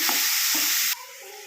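Tomato with onion and mint frying in a hot pan for a capsicum and meal maker curry, a loud steady sizzle that drops sharply partway through, with a couple of soft stirring scrapes.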